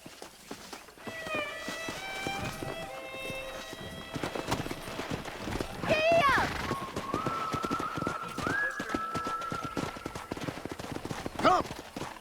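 Horse hooves galloping in the Western video game Red Dead Redemption, a steady clip-clop rhythm running under game music with whistling tones and brief shouts across the whole stretch.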